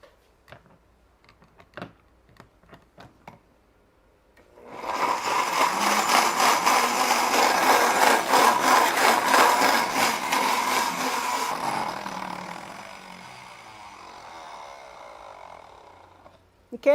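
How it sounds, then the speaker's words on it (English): Blender whirring through chili paste, a loud steady roar that starts after a few soft knocks, holds for about seven seconds, then eases to a lighter spin as the paste thins. "Blend it some more."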